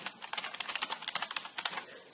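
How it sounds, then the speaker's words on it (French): Rapid clattering keystrokes on a membrane computer keyboard with a modern style, a steady run of soft, close taps at an even typing pace, with no voices. "Ce clavier-là, c'est un clavier membrane."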